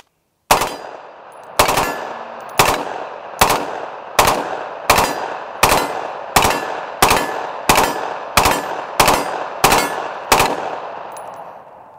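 Gunshots fired at a body armor plate ring out about a dozen times in steady, evenly spaced succession, each loud crack followed by a metallic clang and a short decaying ring.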